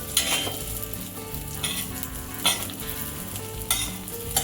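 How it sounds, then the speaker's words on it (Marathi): Japanese rolled omelet (tamagoyaki) fries in a pan with a steady close sizzle, while a utensil gives a few soft scrapes and taps as the egg is rolled, and no one speaks. "आपलं जे ऑमलेट आहे ते ओव्हर कुक नको व्हायला पटापट याला असं रोल करून घ्यायचं"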